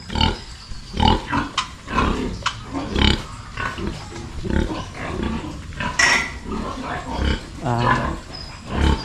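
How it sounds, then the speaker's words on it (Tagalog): Pigs on a farm grunting and oinking in irregular bursts close by, with snorts and squeals alongside clattering noises. "At saka may baboy na dito na malapit ang mga anak."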